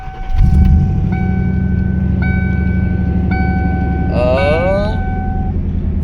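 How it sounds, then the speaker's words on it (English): Car fitted with a 400-amp high-output alternator fires up quickly and settles into a steady, close idle rumble, with repeating electronic tones and a brief warbling chirp over it. "Let me do that real fast and we'll crank her up."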